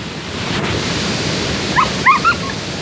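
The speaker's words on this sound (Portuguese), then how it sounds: "Tem um cachorro." A dog near a waterfall gives a few short, sharp yips and barks late on, standing out over a steady rushing roar of falling water that fills the background throughout.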